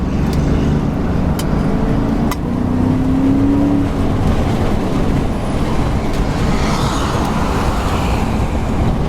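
A 1997 Ford Mustang Cobra accelerates to pass a diesel vehicle ahead, heard from inside as a loud, steady engine and road roar that holds for the whole stretch with no talk.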